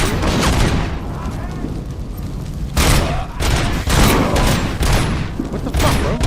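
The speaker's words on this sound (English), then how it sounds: "Snipe you with my pistol" Pistol fire in a RoboCop video game played on PS5: dense, loud shot bursts and booming impacts hit in repeated clusters over continuous game noise.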